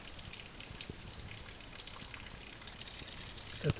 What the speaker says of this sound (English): check out that tiny little waterfall there